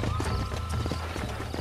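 Horse hooves clip-clop steadily on the ground in Red Dead Redemption, a quick, even rhythm close by over a low rumbling game background, with no talk.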